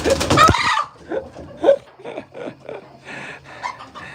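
Chickens cluck at their roost in short, close, irregular calls with occasional louder squawks, a busy flock chatter continuing for several seconds with no talk over it.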